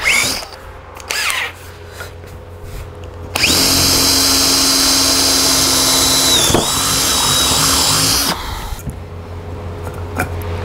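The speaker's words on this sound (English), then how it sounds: "drill the clearance hole for the bolt." A power drill bores a clearance hole for a bolt while building a reclaimed oil drum and scaffold board table, its steady whine running loud and close for about five seconds, with a pitch dip midway, between quieter workshop handling noises.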